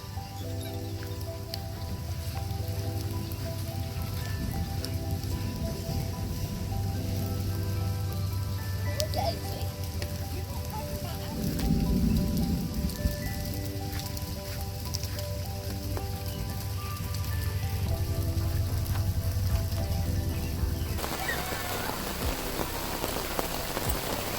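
Rain from a storm patters steadily on a surface for the whole stretch, a dense close-up hiss of drops that swells slightly in the middle, with no talking.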